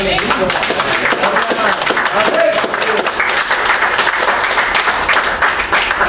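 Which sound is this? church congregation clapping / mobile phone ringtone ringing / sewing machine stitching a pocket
church congregation clapping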